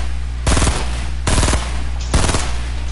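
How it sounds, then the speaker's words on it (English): Suppressing gunfire in an online shooter video game comes as three short bursts of rapid automatic fire, loud and close, evenly spaced over a steady low background hum. "I'm just suppressing fire for you guys."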